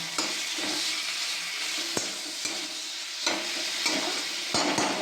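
Oil sizzles steadily in a pan of frying tomato and eggplant while a utensil scrapes and stirs, producing several sharp clinks over the hiss.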